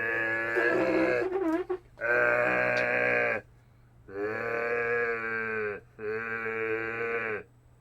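A voice imitating a zombie sound, delivered as a few loud, drawn-out groaning bleats in separate bursts with short gaps, close and alone without other talk.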